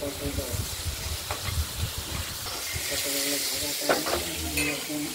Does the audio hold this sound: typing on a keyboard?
no